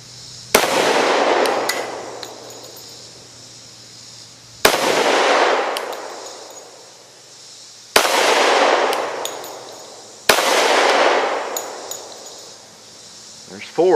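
Glock 20 and Glock 29 pistols firing heavy hard cast Buffalo Bore rounds, four loud sharp shots spaced a few seconds apart, each ringing out with a long decaying echo.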